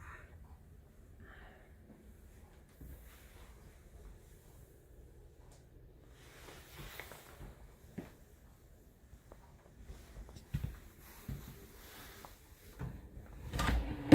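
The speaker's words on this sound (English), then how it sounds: "Slam, slow close drawers." Soft-close drawers in a 2015 Forest River Sandpiper 378FB fifth-wheel RV shut with a few quiet, muffled thuds, growing slightly louder toward the end against a near-silent interior.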